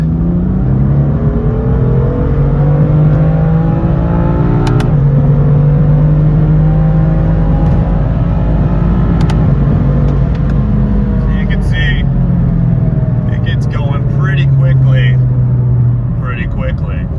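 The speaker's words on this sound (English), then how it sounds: "And one more pull for good luck." A tuned BMW M3/M4 engine revs hard through a dyno pull, a loud sustained roar with rising and falling harmonic sweeps running the whole time, and a voice speaks briefly over it.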